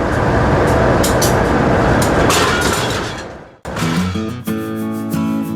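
Local train at an Indonesian station on the Garut–Jakarta line, a loud, steady roar of rolling wheels that fades, followed after a sharp break by a different engine drone with strong low tonal hum.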